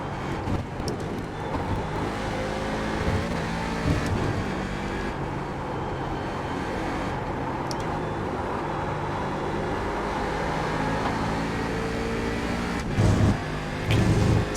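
A race car engine drones steadily as it laps the circuit, a loud, constant mechanical roar that continues without a break, with a few brief louder bursts near the end.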